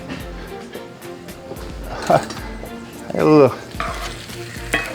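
Tomato sauce being stirred in a pot with a wooden spoon, giving soft scraping and faint sizzling that build to a louder wet stir near the end, close and moderately loud with no talk.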